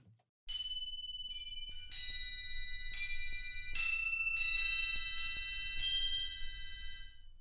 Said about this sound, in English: So here we have these crotalis, which are basically kind of chimes. They're very high-pitched chimes.